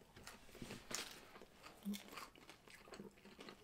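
Someone bites into a crunchy coconut-flavored Russian snack, giving several quiet, close crisp crunches with soft chewing between them and no talk.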